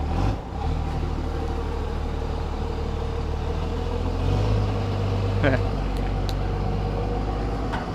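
A 24-valve truck engine, recently submerged underwater for hours, idles in a steady low rumble throughout, fairly close and even, with a brief faint clank partway through.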